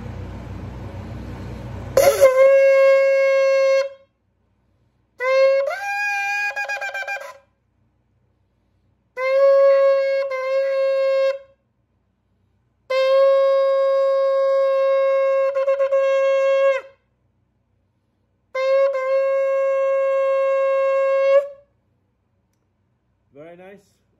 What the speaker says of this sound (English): Resonant, awesome, vibrant sound of this particular shofar, and you can hear the sound resonate.